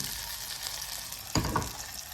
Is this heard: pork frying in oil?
yes